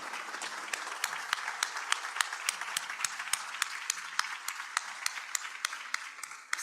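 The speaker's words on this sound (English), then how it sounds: "a round of applause" An audience gives a round of applause to a medical trial team standing in a hall: steady, dense clapping from many hands with some sharper individual claps standing out, moderately loud and continuous throughout.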